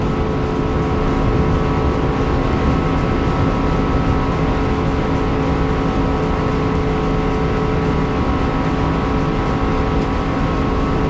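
Steady, loud engine roar of a modified jet drag car racing, with a cyclist drafting close behind; a continuous powerful drone with layered harmonic tones, sustained without pause and no talking.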